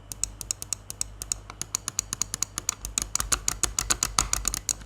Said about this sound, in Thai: ถ้าเป็นสีน้ำเงินตัวนี้กดเสียงดังคลิกดีจังหวะสนุก